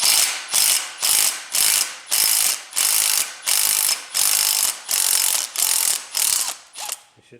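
An impact tool working a stuck spark plug loose from a motorcycle engine cylinder, loud close mechanical rattling in about ten regular bursts separated by brief pauses, with no talking.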